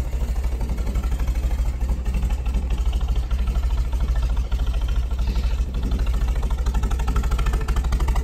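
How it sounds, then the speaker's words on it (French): A 1960 Triumph TR3 roadster engine idles with a steady, even low-pitched throb and fast regular pulsing, heard close and fairly loud throughout with no speech. "Et là, la voiture tourne au ralenti."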